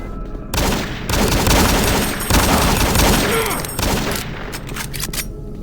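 Pistol fire from a modded Doom 3 shooter game rings out in loud, close bursts with brief gaps, the shots crisp and echoing against the game's dark ambience.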